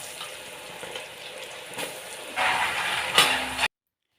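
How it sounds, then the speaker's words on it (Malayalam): Coconut oil sizzles and crackles as jackfruit chips fry, quieter at first, then a louder burst of frying with a sharp clatter toward the end. "അടുത്തത് നമുക്കിങ്ങനെ വറുത്തെടുക്കാം കേട്ടോ"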